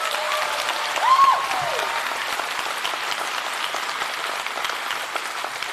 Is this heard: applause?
yes